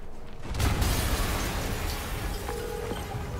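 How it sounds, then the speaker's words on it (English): An explosion in Spider-Man on PS4 at Fisk Tower: a sudden loud blast followed by a sustained rumbling roar that slowly fades, with no talking over it. "Yuri, an explosion just..."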